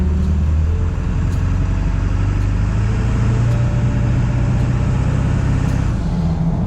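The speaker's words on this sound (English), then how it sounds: "You can already hear them tires." A steady, loud road roar of tires humming on pavement from inside a moving 2001 Ford F-350 pickup at low speed, with a low engine drone underneath and no talking.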